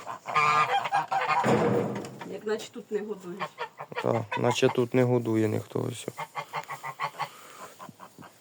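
Geese honk repeatedly at close range in a farmyard with white ducks, the harsh calls coming in bursts while someone talks over them.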